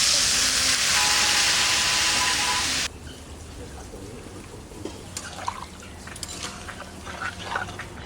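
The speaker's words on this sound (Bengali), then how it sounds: "কষানো হয়ে গেছে। এবার জল দেবো।" Water poured into a pan of sizzling vegetable curry gives a loud, steady hiss that cuts off abruptly, leaving softer bubbling, crackling and occasional drips.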